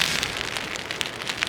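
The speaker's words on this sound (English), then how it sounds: "the rain's just driving in and coming in at the back" Wind-driven rain beats steadily against a four-season ultralight tent, a dense continuous patter with brief louder gusts and drips, close by with no talking.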